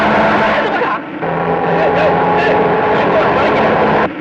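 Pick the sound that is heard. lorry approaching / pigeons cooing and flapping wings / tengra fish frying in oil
lorry approaching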